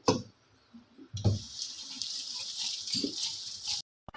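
Vinegar is poured into a pot of fish paksiw in a steady stream lasting about two and a half seconds, after a couple of soft thuds from the pot.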